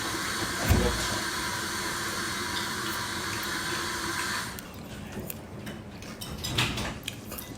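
Water splashes steadily while someone washes their face, a continuous rushing and splashing that thins out partway through into lighter, intermittent drips and splashes.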